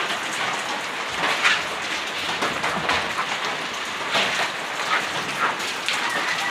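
Steady rain pours down outdoors, a dense, continuous hiss of drops striking surfaces at close range, with no break and no voices.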